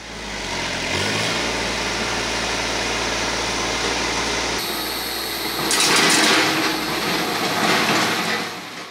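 A tractor drags a land plane along a drainage ditch, its engine droning steadily and loud throughout, with a heavier grinding, scraping surge of dirt and metal toward the end as the load drops in.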